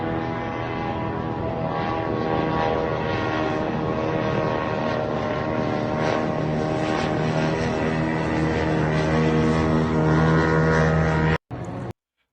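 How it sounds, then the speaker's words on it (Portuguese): Several drones pass over Dzhankoy, Crimea, during a large attack, a loud continuous propeller drone that swells and holds for about eleven seconds before cutting off abruptly. "dá para ouvir ali vários drones passando ali, né, em Jankoy"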